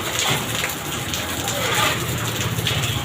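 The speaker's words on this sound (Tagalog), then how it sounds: "Ang ulan eh." Steady rain pours over an outdoor construction site, a dense, even hiss throughout, with faint voices underneath.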